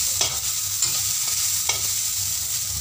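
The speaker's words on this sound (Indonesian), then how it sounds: "Kita tumis dulu" Long beans and white tofu stir-fried Hong Kong style in a pan give a steady, close sizzling hiss, broken by a few sharp scrapes and clinks of the spatula stirring throughout, with no voices.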